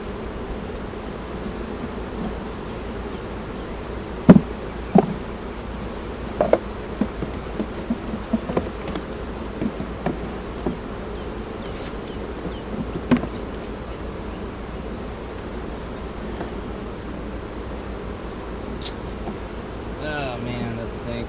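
Honeybees around a hive that has just swarmed on a farm, a soft continuous buzz close by with scattered sharp knocks and handling clicks over it.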